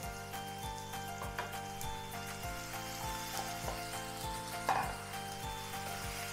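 Four boiled potatoes frying in a pan with turmeric for masala dosa filling sizzle steadily under a regular ticking rhythm, with a single louder clatter near the end.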